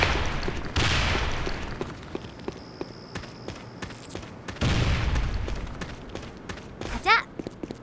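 Grenade explosions in a first-person shooter game, two heavy booming blasts a few seconds apart with rumbling tails, amid scattered footsteps and clicks, and a voice speaking near the end.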